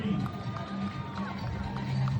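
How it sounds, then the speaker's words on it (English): Spectators cheer and shout steadily for runners crossing the finish line of the Blue Nose Marathon, a continuous close crowd din with a commentator's voice over a PA. "A lot more runners, a lot more cheering."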